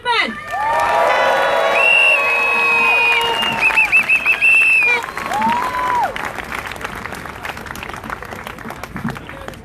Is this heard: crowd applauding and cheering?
yes